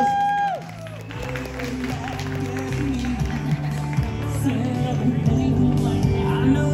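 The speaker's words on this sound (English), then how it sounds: "give them a round of applause for the London Brothers" Audience applause and cheering at a fan convention panel at Smoky Mountain Fanfest 2022 in Tennessee, crowd clapping building after a second and continuing steadily, with whoops and voices mixed in.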